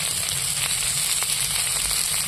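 Spices with chilli and turmeric sizzle in hot oil, a dense continuous hiss with scattered light crackles and faint stirring scrapes, close and steady with no talking.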